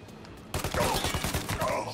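Mafia: Definitive Edition gunfire erupts after a quiet half second as a loud, dense burst of rapid shots that continues steadily to the end of the clip.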